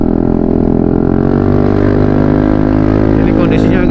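A Yamaha Aerox scooter fitted with a Krace Ultra exhaust accelerates up a slight incline, its engine drone loud, steady and close with a slowly climbing pitch throughout.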